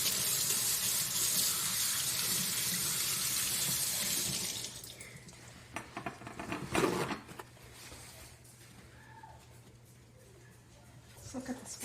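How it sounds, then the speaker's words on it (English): Tap water runs steadily into a sink for a few seconds, then stops, followed by quieter handling noises and speech. "We're going to rinse it off with some soap and water."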